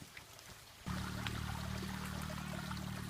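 Continuous rushing and splashing water from Phu Sing waterfall, a small waterfall with low flow in Thailand, swelling suddenly and then holding steady, close and fairly loud.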